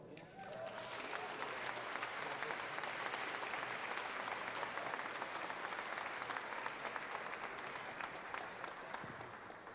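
A crowd at a State House rally for human services workers applauds Senate President Karen Spilka, sustained, thick clapping that swells in after a moment and stays loud from a distance.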